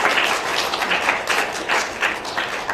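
A crowd applauds steadily in a dense, continuous wash of clapping that stays loud throughout, with no voices standing out.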